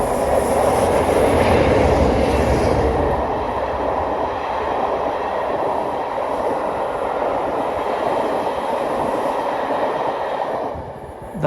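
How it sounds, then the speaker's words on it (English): A Statesman Rail and LSL charter train from Rugby to Inverness, hauled by two class 47 diesel locomotives, rolls past from a bridge. Its loud wheel rumble and carriage noise fade gradually, then end abruptly. "a Statesman Rail and LSL service from Rugby to Inverness with 47 853 and 47 805"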